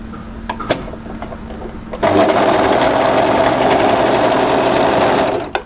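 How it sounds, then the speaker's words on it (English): An overlocker runs at speed along sweatshirt fabric, a close, loud, steady mechanical whirring that starts abruptly after quiet handling noises and lasts about three and a half seconds. "I'll just quickly overlock that again."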